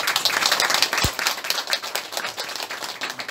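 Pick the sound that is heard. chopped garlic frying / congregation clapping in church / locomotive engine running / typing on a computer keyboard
congregation clapping in church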